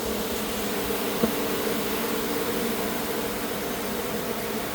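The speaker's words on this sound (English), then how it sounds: "So many bees." A swarm of bees from a hive under a shed floor fills the air with a dense, continuous buzzing drone, close and steady, with one faint knock partway through.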